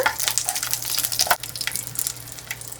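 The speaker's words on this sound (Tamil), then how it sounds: "முதல்ல இது கொஞ்சம் எண்ணெயில் பொரியட்டும். 4 பல்லுக்கு பூண்டு கூட எடுத்து வச்சிருக்கிறேங்க. இதையும் போட்டுறேன்." Four garlic cloves frying in hot oil in a pan for a Tamil tomato kulambu, a steady close hiss and crackle with bright spattering pops and a brief stirring scrape partway through.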